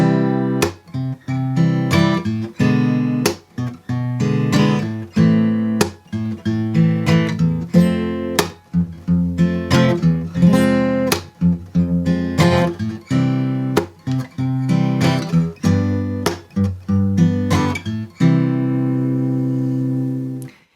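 A keyboard or piano plays a slow progression of sustained chords, each struck cleanly and ringing out before the next, with no voices.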